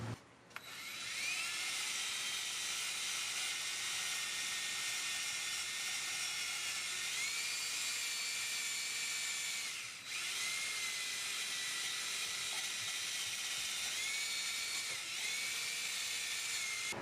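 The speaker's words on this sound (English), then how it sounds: "Basically you use it like any other roll-lock disc, and you use it to clean up mating surfaces, and it's very gentle on the aluminum." A roll-lock abrasive disc on a high-speed rotary tool cleans aluminum mating surfaces during a Lexus LS400 timing belt job, a steady whining grind that holds on alone for the whole stretch with slight shifts in pitch.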